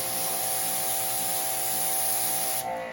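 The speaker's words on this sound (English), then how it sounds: "we're going to take the pressure washer, or you can use the garden hose" A pressure washer sprays water onto buffer pads to clean them, a loud steady hissing rush with a constant tonal whine from the machine, briefly shifting near the end; no talking.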